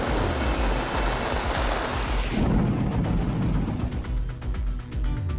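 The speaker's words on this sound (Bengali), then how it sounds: "বজ্রপাত" Thunderstorm of the kind behind deadly nor'wester storms in Bangladesh: a steady wash of heavy rain and low rumbling thunder, loud and continuous, with the roar shifting partway through and no voices.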